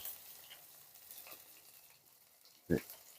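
Kuche fish fries lightly in a pan with a faint, soft, steady sizzle, close by, and one brief louder knock or clatter near the end.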